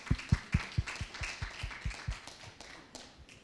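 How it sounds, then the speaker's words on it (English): A few people clap in a small room, distinct separate claps in a steady rhythm that gradually soften and thin out. "give both the people in the room and our virtual speakers a big round of applause"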